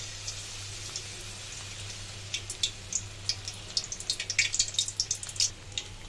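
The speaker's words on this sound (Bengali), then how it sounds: "এখন খালি তেলের মধ্যে ছাড়মু এই যে তেলের মধ্যে দিয়ে দিলাম ফুলগুলা" Batter-coated flowers drop into hot oil and fry, giving a soft hiss that grows into busy, crackling spits and pops over the last few seconds, close and fairly quiet.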